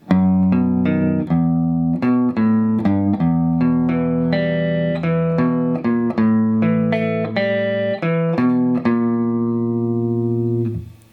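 A guitar plays a clean, steady riff of single notes and short chord stabs from a song, ringing clearly with no voices over it.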